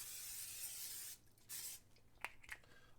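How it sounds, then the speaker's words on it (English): A steady hiss of aerosol cooking spray onto a pan for about a second, then brief rustling and light clattering of the pan. "start by spraying your pan"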